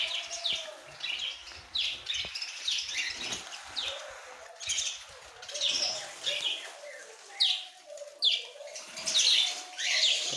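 Caged lovebirds and cockatiels chirp and tweet in busy, overlapping bursts close by. Rustling and wing flaps are mixed in, and no voices are heard.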